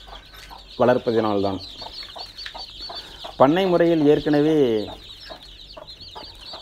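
Young chickens raised on a farm without vaccination chirp and cluck steadily in the background while someone speaks over them.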